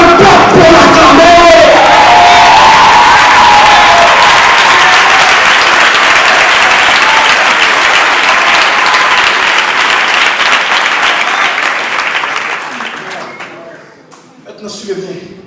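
A church congregation bursts into loud, sustained applause and cheering that fills the room and holds for a long stretch, then thins and fades near the end.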